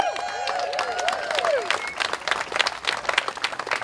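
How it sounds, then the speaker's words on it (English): At the opening of a community-built playground at Dutterer Park, an outdoor crowd claps and cheers, with whoops and voices rising early and then giving way to scattered, uneven applause. "Big round of applause."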